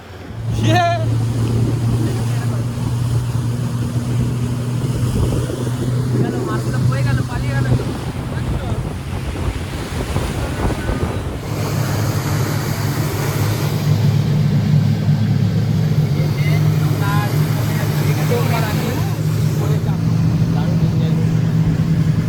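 A speedboat races across a dam reservoir, a loud, steady roar of engine, rushing water and wind buffeting the microphone up close, with the tone shifting partway through and faint voices briefly audible beneath.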